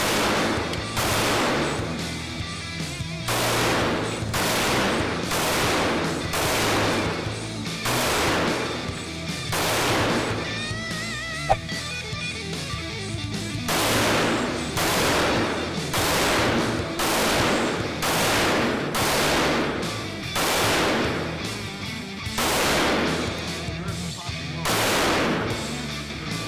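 Pistol shots from a Ruger 57 and an FN 5.7 at a shooting range: a long run of loud, sharp cracks fired in quick strings with short pauses, close and booming over steady background noise.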